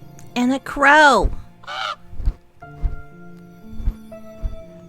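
A crow caws in the game Save the Villainess, a few harsh calls set against a mansion backdrop while a person talks over the start and quiet game ambience follows.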